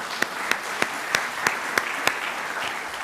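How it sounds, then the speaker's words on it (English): Audience applause at a law summit for the organizing team, a soft continuous patter of many hands with a few sharper, evenly spaced claps cutting through near the front. "Can we just have a round of applause for the team of Think India?"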